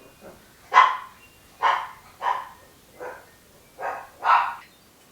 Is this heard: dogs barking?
yes